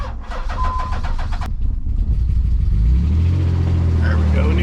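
Turbocharged Nissan 300ZX being started with a jump pack, a grinding crank and a click, then the engine catches and settles into a deep rumbling idle, with a voice over the top.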